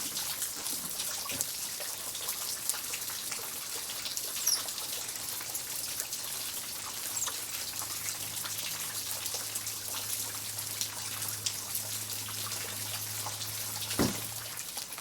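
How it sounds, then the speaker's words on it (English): Steady morning rain falling outdoors, a soft even patter of drops with occasional louder drips on nearby surfaces, continuous throughout with a faint low hum underneath. "I had no idea it was going to rain this morning."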